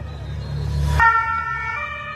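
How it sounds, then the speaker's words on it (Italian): An ambulance siren sounds nearby in a town street during a Giro d'Italia cycling stage in San Severo, Italy, its wailing tone sweeping and then holding steady over low traffic rumble. "L'ambulanza."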